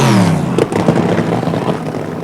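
Tony Nancy's rear-engine dragster, a rubber-liner car at the 1973 Santa Pod Internationals drag races, doing a burnout, a loud roaring engine with rough crackling tire spin that starts at full volume and stays dense and harsh.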